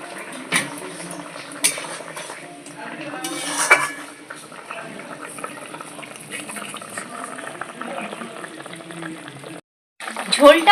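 Bhola fish curry with potatoes bubbling in a pot, a low simmering gurgle broken by metal clinks of a ladle against the pot, close by, with some talk.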